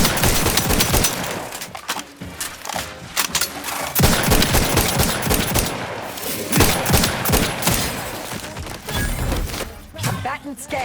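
Automatic weapon fire in the video game The Outer Worlds 2, loud rapid bursts and sustained volleys of shots with heavy thumps, broken by brief pauses, with short game voice lines mixed in.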